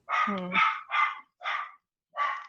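Several big dogs bark in a nearby room, about five loud, separate woofs spaced irregularly with short pauses between them, the first overlapping a lower growling tone, and no other sound around them.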